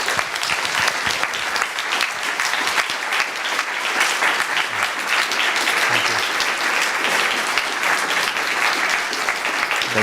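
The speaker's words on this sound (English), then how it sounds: "Let's give Colin one more round of applause" Lecture audience giving a final round of applause for Colin after a talk about plants at a mum show opening; loud, dense clapping from many hands, sustained and even for about ten seconds.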